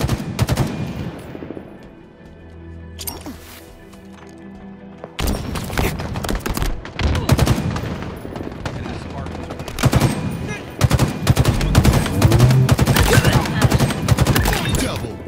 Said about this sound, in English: AR-75 battle rifle obtained.